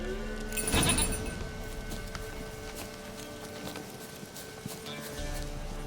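A goat in The Witcher 3 gives a single loud, wavering bleat early on, followed by quieter game ambience with faint hoof-like knocks.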